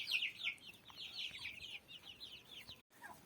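A brood of newly hatched turkey poults peeps shrilly and constantly, many high chirps overlapping at close range, with a brief break near the end and no voices.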